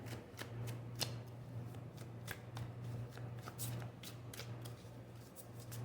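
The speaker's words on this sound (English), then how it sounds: "to start with some shuffling." Tarot cards are shuffled by hand in a series of crisp, irregular riffling snaps and slaps, close and fairly quiet, over a steady low fan hum with faint voices underneath.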